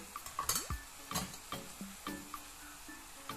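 Squid roast being stirred with turmeric, chilli powder, pepper and salt in a pan over a low flame: repeated scraping strokes of a spatula against the pan over a soft, steady sizzle, close and moderately loud.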